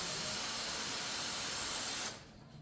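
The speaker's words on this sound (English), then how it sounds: "So I'm gonna spray some starting fluid in it while he tries to start it." Starting fluid sprays in a steady, loud hiss into the engine of a Ford F100 that will not start on its own, lasting about two seconds before cutting off abruptly to quiet.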